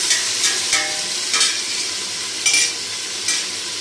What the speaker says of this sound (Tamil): தக்காளி பச்சை மிளகாய் இதை போட்டு நல்லா வறுவிடணும்